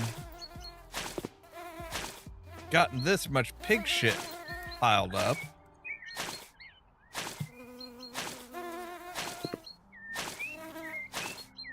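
Flies buzzing around pigs on a farm in House Flipper, thin whining drones drifting in and out behind someone talking, punctuated by repeated sharp clicks and thumps.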